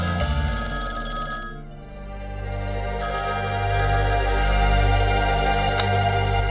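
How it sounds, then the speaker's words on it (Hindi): An electronic telephone ring trills loudly and steadily, pausing briefly before resuming and continuing until the end. "ये फोन 2 बार बज के बंद हो जाता है।"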